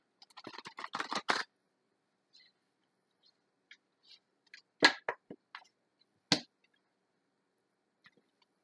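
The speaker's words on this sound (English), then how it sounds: "I am going to cut the deck" A deck of tarot cards being cut and handled at close range: a quick burst of papery riffling at the start, then scattered soft card taps and slaps spaced over several seconds, with quiet gaps between.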